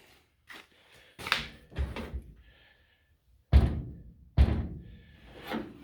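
Door of a 1947 Dodge WD21 pickup truck with freshly straightened hinges shutting, several solid metallic thunks and slams spaced a second or so apart, close and loud, with quieter handling sounds between and no talking.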